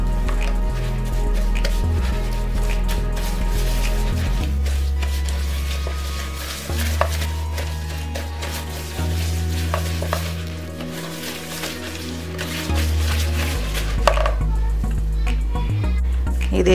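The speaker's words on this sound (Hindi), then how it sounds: "इसको हमने बटर में इस वक्त इस हद तक मिक्स करना है सॉफ्ट हो जाए बिल्कुल" Butter and brown sugar being mixed by hand in a bowl for chocolate butterscotch cookies, a steady scraping, squishing stir that runs throughout with occasional clinks, under a continuous low background hum.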